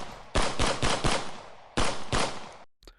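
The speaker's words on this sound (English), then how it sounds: "the deadly machine guns of the Reds open up with their lethal fire" Bursts of machine gun fire in a battlefield sound effect, loud and close, in two rapid volleys of sharp repeated shots separated by a short pause.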